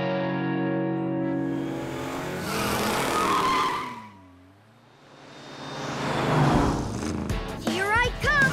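Cartoon Tonka trucks race with tires skidding and squealing in long sweeping slides that swell, fade and return, joined by engine whine and effects, with brief talk near the end.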